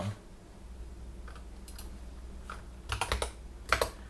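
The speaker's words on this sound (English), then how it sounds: "I could be in the middle of typing something." Quiet keyboard typing: scattered soft key clicks, then a short flurry of quicker taps, close by with no talking.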